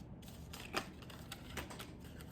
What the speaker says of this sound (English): I'll only shuffle until I feel like I need to stop.